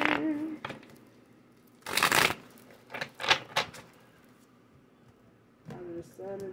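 Tarot cards are shuffled close by in a few short, crisp riffling bursts with pauses between them, and a voice speaks briefly before and after.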